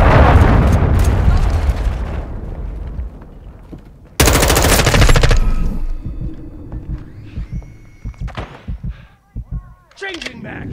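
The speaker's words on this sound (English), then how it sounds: "Friendly cruise missile approaching target." Cruise missile strike and rapid gunfire in Call of Duty Modern Warfare 2, heavy bursts and a loud blast up front, then scattered shots and game radio chatter.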